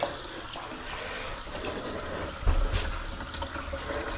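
Water runs from a newly installed bathroom faucet into a sink that is already full: a steady, close splashing rush with a brief louder gush partway through and no talking.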